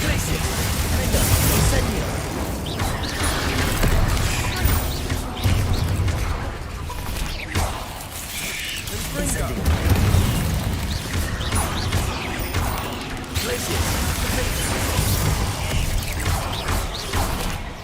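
Spell blasts from Bombarda and Confringo in the video game Hogwarts Legacy, a run of loud booming, crashing impacts with mechanical rattles, continuous and dense throughout, with a voice talking over the din.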